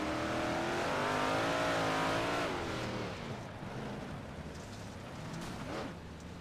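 Big block modified race cars race on a dirt speedway, engines screaming loud with rising and falling revs as they pass, then fading into a rougher rumble of the field.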